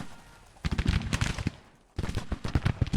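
Musket volleys and artillery in the Civil War strategy game Grand Tactician: The Civil War, dense overlapping crackles of rifle fire with heavier booms, in two sustained bursts separated by a brief lull.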